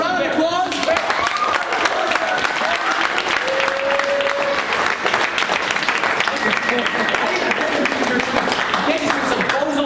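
Loud, sustained audience applause from an on-stage show crowd, dense clapping with some cheering and voices mixed in, steady throughout.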